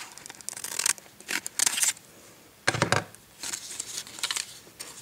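Scissors snip through a small paper circle, cutting it in half for doll clothes: a series of short, close crisp cuts and paper rustles separated by brief pauses.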